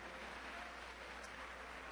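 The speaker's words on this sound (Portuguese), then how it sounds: "dando a Jesus uma linda salva de palmas" Church congregation applauding together after a call to praise Jesus at an evangelical preaching event, a steady dense wash of clapping held at even level throughout.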